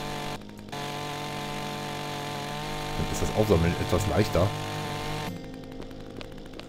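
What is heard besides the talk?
chainsaw sawing wood in the video game ECO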